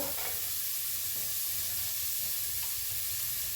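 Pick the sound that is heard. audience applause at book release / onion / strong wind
onion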